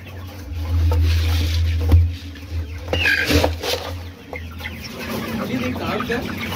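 Many broiler chickens cluck and murmur together in a crowded shed, a low continuous chatter with occasional sharper calls, under a steady background hum.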